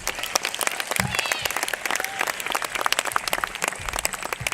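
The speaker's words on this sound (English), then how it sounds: "Let's give all our graduates a round of applause." Graduation ceremony crowd applauds the graduates: broad, sustained clapping from a large audience in a big hall, with faint cheers and murmuring mixed in.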